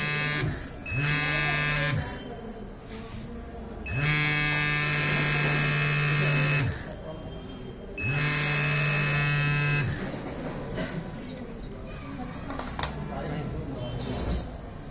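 A buzzer on an SR04 ultrasonic obstacle detector for a blind person sounds in long steady tones of about two to three seconds each, repeating with short gaps, loud and close, while a voice talks throughout.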